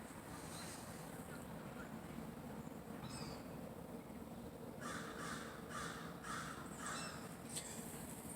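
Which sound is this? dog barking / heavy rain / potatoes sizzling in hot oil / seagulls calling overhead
seagulls calling overhead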